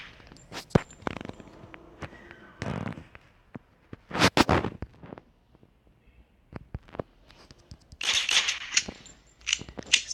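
Counter-Strike style video game gunfire comes in sharp, scattered bursts of single shots. Footsteps sound between them, and a longer noisy burst arrives near the end.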